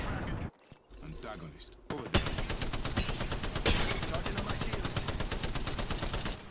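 Spitfire machine gun firing in the video game Apex Legends, a long, loud, evenly spaced stream of rapid shots after a short pause, with a player talking.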